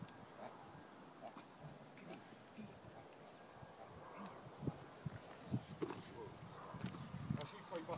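A horse steps backward, its hooves giving a few soft irregular thuds on the ground near the end, faint beneath outdoor background noise and buzzing insects.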